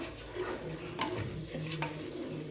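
A spoon stirs rice and lentils in a pot, giving soft irregular scrapes and light clinks against the metal, close up.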